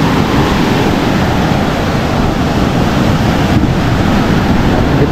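Heavy sea waves crash continuously against the shore, a dense, loud roar mixed with wind rumble on the microphone, with no voices.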